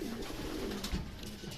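A racing pigeon coos softly in a loft, low throaty rolling calls repeated over a second or so, close against a constant background hiss.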